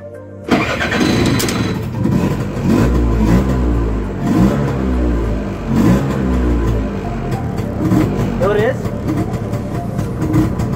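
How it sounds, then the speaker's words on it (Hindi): An auto-rickshaw being repaired at night is cranked with the key and catches, its engine sputtering to life and then revving repeatedly in loud, rising bursts, close up, with people talking over it. "आता स्टार्ट करून बघणार, बघूया चालू होतं काय. चावी मारते हा."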